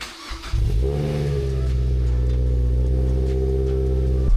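A Mazda NC Miata engine with a cold air intake idles steadily after a brief rev, its low rumble loud and close with a constant droning hum.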